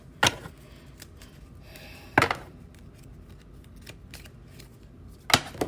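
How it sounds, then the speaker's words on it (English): Three oracle love cards are drawn one at a time from a deck, each pull making a short, crisp slide and snap, spaced a couple of seconds apart against quiet rustling, with no talk. "so I'm going to pull 3 cards."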